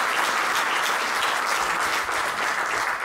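Members applauding in the French National Assembly during a Brexit debate, a steady wash of many hands clapping together, loud and unbroken throughout.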